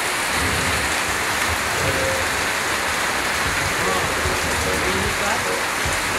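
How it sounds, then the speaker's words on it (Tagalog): A steady splashing stream of urine, heard outdoors during heavy rain, a continuous broadband hiss and patter that holds at an even, fairly loud level with no pauses. "Ay, hindi pala agos ng tubig. Ihi."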